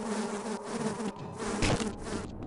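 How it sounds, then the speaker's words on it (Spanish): Bees buzz in the video game Half-Life, a dense, steady insect drone that fills the whole clip at moderate level, with no talk over it. "¡Putas abejas!"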